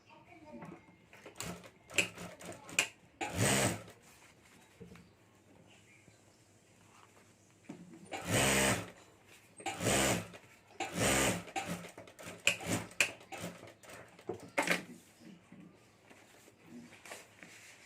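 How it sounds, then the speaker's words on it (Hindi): A sewing machine stitches a homemade luggage bag in short whirring bursts of a second or so. Someone talks between and over the runs. "और अब यहाँ जो खुला है वहाँ हमें सिलाई कर देनी है।"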